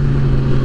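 A Kawasaki ZX-6R sport bike, a 2009 model, pulls in first gear with a steady droning engine note heard up close, loud and continuous through the short stretch.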